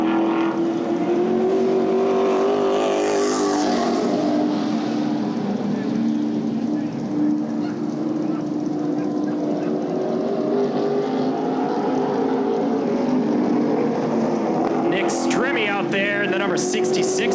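A street stock race car engine drones steadily as it laps the track during qualifying at Raber's Rumble, a sustained mid-distance roar that shifts slightly in pitch, with a commentator talking over it throughout.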